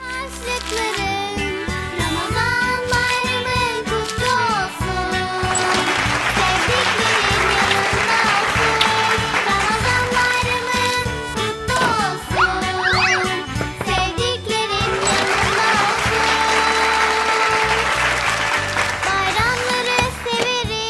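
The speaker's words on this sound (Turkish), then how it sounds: "Güzel. Alkışlıyoruz." Applause during a Turkish children's holiday show, the clapping blended with bright, tinkling jingle music that runs throughout at steady volume.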